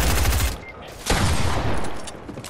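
Pump shotgun blasts in the video game Fortnite, loud, close booming shots in quick succession with a second burst about a second later, fading into a ringing tail.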